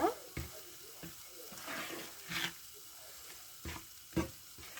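Carrot halwa cooks in a pan as sugar melts, giving a soft sizzle with scattered stirring scrapes and bubbling bursts, faint and close.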